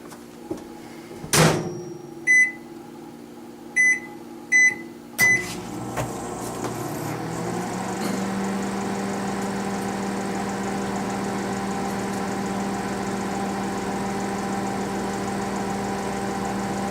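A microwave oven cooks a Just Crack An Egg breakfast cup: a few beeps and a door clunk, then a steady low hum with a faint whirr that continues unbroken.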